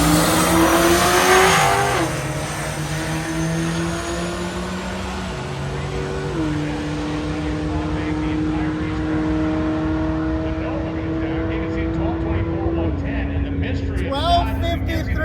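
A drag racing car engine roars at high revs launching off the line at a drag week event, shifting up through gears with stepped pitch changes as it pulls away and fades into the distance.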